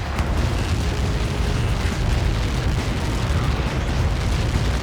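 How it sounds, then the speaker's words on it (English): A huge Helios projectile impact explodes in the Ace Combat 7: Skies Unknown Lighthouse mission, a loud, continuous roaring blast rumble that fills the whole stretch without any voices. "How many got caught in that explosion?"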